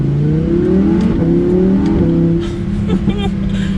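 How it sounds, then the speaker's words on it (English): A loud Lamborghini Huracán engine revs and holds a high, smooth whine, pitch climbing and shifting between gears, close and dominant throughout. "That definitely sounds like a Huracan. You can hear it just a little bit."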